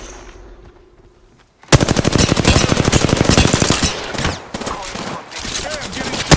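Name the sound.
gunfire in the video game Apex Legends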